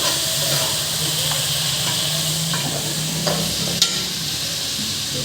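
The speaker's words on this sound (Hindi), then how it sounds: "ये देखो, चिकन को मैं अच्छी तरह भून रही हूँ।" Chicken for karahi frying in oil and being stirred: a loud, dense sizzle with a continuous steamy hiss fills the whole stretch, with occasional light scrapes and a sharp clink near the end, close up and without speech.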